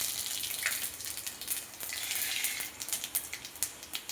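Panch phoron five-spice tossed into hot fish-frying oil, a steady bright hiss of frying with scattered crackles and pops growing toward the end, close but fairly soft and without talk.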